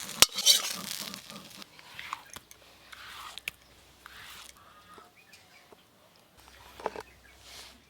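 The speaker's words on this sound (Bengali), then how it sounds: "সবজি ভাজা তো হয়ে গেল" Mixed vegetables frying in a pan for a Bengali vegetable ghonto, with clattering stirring strokes and soft sizzling that comes and goes in bursts, close up and fairly quiet.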